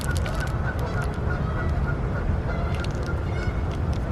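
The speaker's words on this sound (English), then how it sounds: "Geese are over there fighting, squawking and talking." A flock of geese honks and squawks continuously, loud and close, with overlapping calls and no talking.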